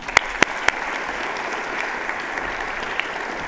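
An audience at a Baker Institute Student Forum event applauds to welcome speakers onto the stage, steady dense clapping from a sizable crowd with a few sharp claps up close at the start.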